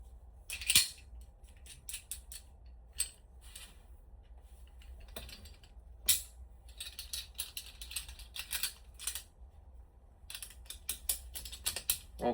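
Rope rescue rigging is reworked, with a Munter hitch taken off and a prusik minding pulley put back on. Quiet, scattered metallic clicks and rattles of hardware come in irregular bursts, close by, with no talking.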